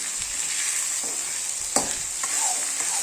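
Tomatoes sauté in a pan with sambar powder, turmeric and rock salt, giving a steady close sizzle broken by a few scraping stirs of a spoon, with no voices.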